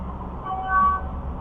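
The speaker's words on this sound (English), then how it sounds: "We hear a horn honk." A short, distant horn toot rising briefly over a low rumbling background, heard from afar inside an old opera house.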